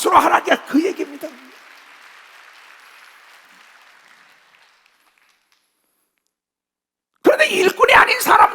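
A church congregation claps during a Sunday worship service at Jesus Centered Church. A burst of applause fades into a long, hushed decay, then a loud speaking voice breaks in near the end.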